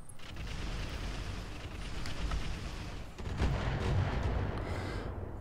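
Weapons fire in a mech combat video game, a dense continuous rumble of booming artillery-like blasts and crackling shots with no talking.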